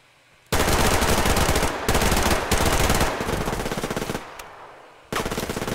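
Automatic weapon fire in the online shooter Survarium, rapid bursts of loud close gunshots in several long strings with brief gaps, no talking.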